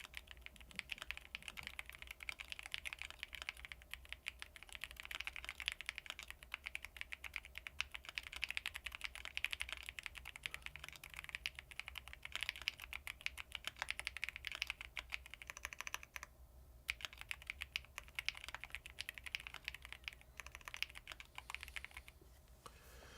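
Fingers type steadily on a computer keyboard, a continuous close clatter of quick key presses with brief pauses, running alone without any talk.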